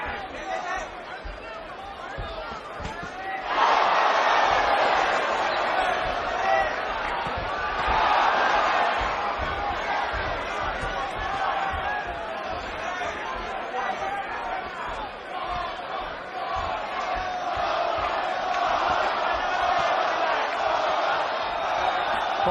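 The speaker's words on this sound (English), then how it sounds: "The cheers of the crowd go out again." Crowd noise at a Miguel Cotto versus Yoshihiro Kamegai boxing fight, a steady arena roar that swells into loud cheering in waves, running under continuous commentary.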